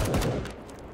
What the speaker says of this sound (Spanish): Los sonidos de los disparos están muy bien.